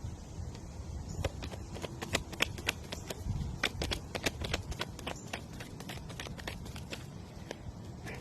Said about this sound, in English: Maybe I need to shuffle the other way because the cards are popping out.